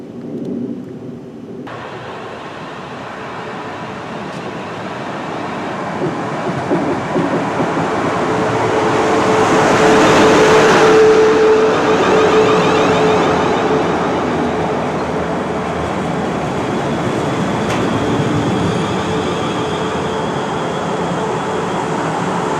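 A train at Lymington Town station in the New Forest, a short platform taking four coaches, gives a loud, sustained rumble that swells to a peak midway, with a brief squeal, then holds steady; no one speaks.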